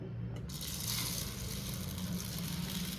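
Water runs into a bowl of jowar grain, a continuous close rushing splash that begins abruptly after a brief quiet start and holds steady to the end.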